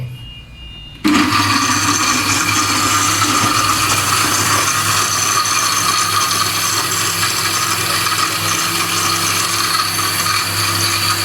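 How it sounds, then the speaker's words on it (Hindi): A blender kicks on after a brief quiet moment and whirs steadily and loudly, churning mango lassi made with yogurt and sugar. "अब हम इसको ब्लेंड करते हैं।"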